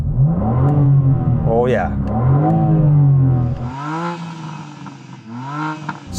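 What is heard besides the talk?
BMW M4 CSL engine revving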